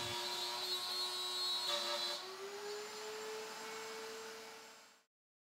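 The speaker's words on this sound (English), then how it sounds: "Adding the optional mortising jig to the horizontal table makes it a simple matter to route quick and easy" Router on a horizontal router table with a mortising jig, cutting mortises in wood, a steady high whine with a brief harsher cutting patch, then stopping abruptly into silence.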